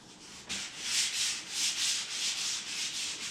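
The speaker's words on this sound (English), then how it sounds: "Just lightly sanding with 220 grit" Sandpaper of 220 grit rubs lightly back and forth over a wooden door in even, rhythmic strokes, a soft, close scratchy hiss repeating about twice a second.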